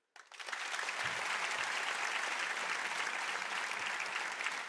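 A large audience in a hall bursts into sustained, dense applause that starts abruptly and holds steady and loud throughout, with a few faint cheers mixed in.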